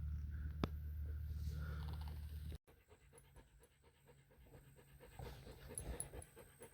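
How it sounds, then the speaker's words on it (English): A dog pants rapidly and rhythmically close by, the quick breaths continuing steadily over a faint background hum. "dog's panting"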